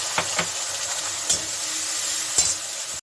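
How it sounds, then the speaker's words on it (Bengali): Cumin seeds and a bay leaf sizzle steadily in hot oil as turmeric goes in for a spiced pumpkin dish, a continuous close hiss broken by a few sharp clinks of a spoon against the pan. "জিরা ফোড়ন দিলাম এই যে তেজপাতা দিয়েছি এখানে আমি এখন হলুদ দিয়ে দিচ্ছি"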